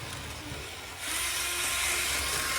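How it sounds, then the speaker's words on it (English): A model locomotive runs over curved Setrack points, giving a steady whirring motor hum with faint rolling rattle; it swells noticeably louder after about a second and stays close, with no voices. "the loco navigated the point work quickly and slowly in both directions"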